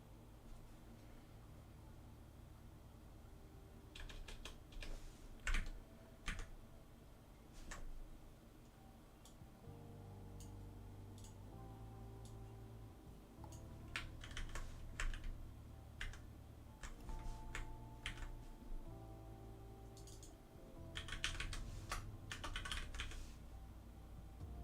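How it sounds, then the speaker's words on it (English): Keys clatter on a computer keyboard in quiet, irregular bursts of fast taps, with pauses between flurries and a low steady hum underneath. "Typing right now."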